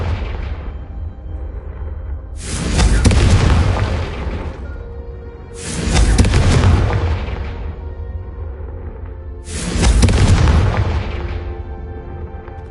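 Three big booming fire-spell explosions from Confringo casts in Hogwarts Legacy, each a sharp blast swelling and decaying over about two seconds, spaced a few seconds apart with low rumble between.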